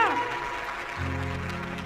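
A church congregation claps loudly to glorify God after a testimony, dense applause filling the room while tonal music and sustained keyboard notes carry on underneath.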